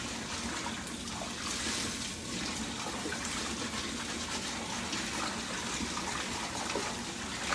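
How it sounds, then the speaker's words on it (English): Collard greens being washed in a basin of water, the leaves rubbed against each other, giving a steady, continuous sloshing and rushing of water close by with no voices. "when she washes greens, she rubs them together like that"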